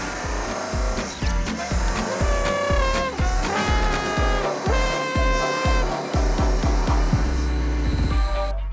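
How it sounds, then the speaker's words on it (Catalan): Polishing a handmade brass trumpet bell in a workshop: steady, loud rubbing and whirring with repeated rhythmic scraping strokes and ringing metallic overtones, continuous throughout with no talk. "podem començar a polir i ja tindrem la campana"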